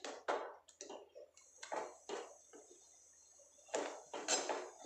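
Kalakand mixture stirred in a pan, metal spoon scraping and clinking against the pan in irregular strokes, close and clear with short pauses between them.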